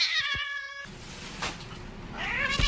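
A domestic cat gives a clear, close meow, then a second drawn-out, rising meow after a noisy pause, with no talk over it.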